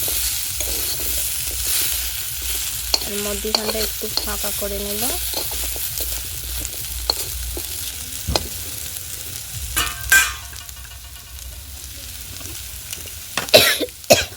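Potatoes frying and being stirred in a wok (kadai), a steady sizzle under intermittent scraping and stirring knocks, with a short spoken remark partway through and a few louder clatters near the end.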